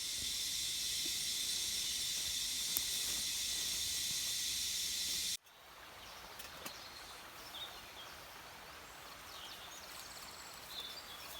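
A camping stove burns fuel with a steady, loud hissing flame, then the roar cuts off abruptly partway through, leaving quieter outdoor rustling in the woods.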